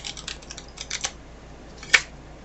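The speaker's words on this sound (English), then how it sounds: "Round cards are very hard to shuffle." Round tarot cards being shuffled by hand, with quick, close clusters of soft papery clicks and riffles followed by one sharper snap near the end.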